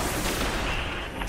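Machine gun fire in the video game Destiny during an Iron Banner match, a brief dense burst of rapid shots forming a continuous noisy roar, loud and close.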